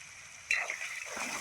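A spoon stirs crab masala gravy in a pan: a sudden wet, sloshing scrape begins midway and continues as a steady, close churning after a quiet start.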